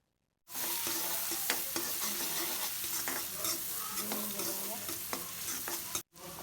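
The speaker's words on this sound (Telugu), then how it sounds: "ఆనియన్స్ మంచిగా వేయించుకుందాము" Finely chopped onions with a pinch of turmeric and salt frying in a pan, a steady close sizzle with stirring scrapes throughout, no talking.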